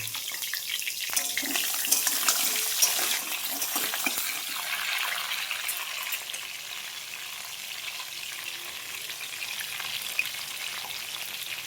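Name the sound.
crab frying in hot oil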